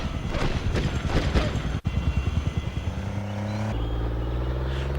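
A vehicle in the PS2 video game Conflict Desert Storm drives with a rough, pulsing engine rattle that gives way to a steady, droning hum, loud and close throughout.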